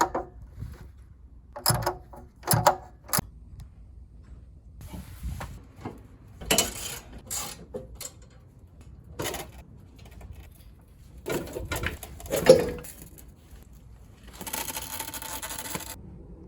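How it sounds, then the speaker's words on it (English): Scattered metallic scrapes, clicks and short rubbing bursts from a 10mm socket working on muffler hanger nuts under a 2002-2006 BMW MINI Cooper R50 exhaust, irregular and fairly close, with one louder clank midway and a sustained rasp near the end. "Next, it's time to remove the muffler hanger. Again, a 10mm socket will do the work."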